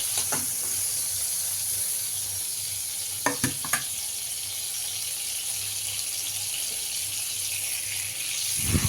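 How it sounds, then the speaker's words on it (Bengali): Prawns frying in hot oil for a prawn malai curry, a constant bright sizzle with a low hum underneath and a few sharp clinks of utensils partway through. "তো এই যে চিংড়ি মাছগুলো কিন্তু আমার ভাজা হয়ে গিয়েছে।"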